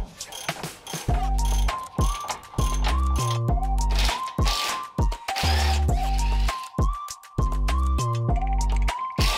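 A hand ratchet works a bolt loose under a Nissan S13 front suspension arm, giving repeated bursts of sharp clicking strokes with short pauses between them, close and clear.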